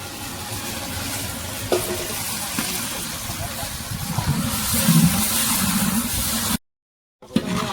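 A tempering of curry leaves and spices fries in hot oil, giving a steady close sizzle that swells toward the end, cuts out briefly, then returns, with people talking over it.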